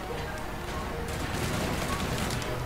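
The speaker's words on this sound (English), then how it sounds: "I kept NB4 because I love the feel when you shoot this fucking weapon." Sustained automatic fire from the NB4 weapon in a Call of Duty Hardpoint match, a dense continuous rattle of shots with no break across the whole stretch, loud and close.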